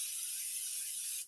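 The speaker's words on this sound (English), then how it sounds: "I'm going to go ahead and spray" Cooking spray hisses from a can over bread dough in one steady, fairly quiet burst lasting just over a second before stopping.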